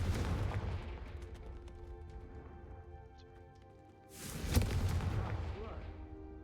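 The Confringo fire spell in Hogwarts Legacy bursts with a loud, close booming whoosh, then trails into a faint rumbling tail, and a second heavy blast erupts about four seconds later.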